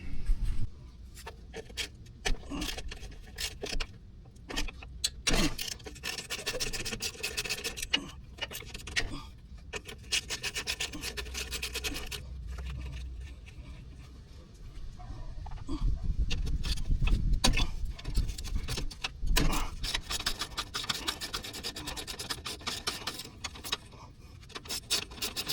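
Small bolts come off the DPF housing of a Paccar MX13 diesel engine on a Kenworth truck, with metallic clicks, ratcheting and rattling scattered throughout at close range and a duller rumbling stretch midway.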